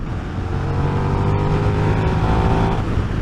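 A KTM 1390 Super Duke R motorcycle engine roars in a loud, sustained, low rumble with strong wind noise, close and continuous throughout.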